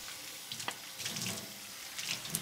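Tap water runs into a sink, rinsing a corned beef brisket, with a soft continuous splashing stream and occasional louder spatters as the meat is moved under the flow.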